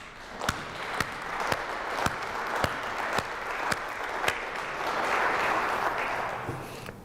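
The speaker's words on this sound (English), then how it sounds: "we clap for them." A roomful of people at a fall faculty meeting claps together in a steady, moderately loud wash of applause. A few sharp, evenly spaced knocks or slaps sound clearly above the clapping before it swells slightly and fades.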